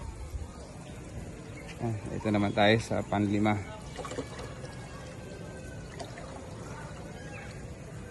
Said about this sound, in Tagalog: Tatagilin natin para masaid natin yung tubig.